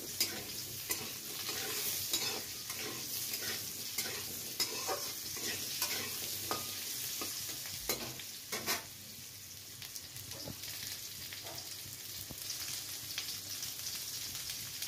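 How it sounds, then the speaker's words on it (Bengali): Potato strips frying in oil left over from frying rohu fish, a steady close sizzle with frequent scraping stir strokes and occasional sharper clicks throughout. "মাছের যে ভাজা ভেজেটা যে তেলের মধ্যেই আমি আলুটাকে ভেজে নিচ্ছি"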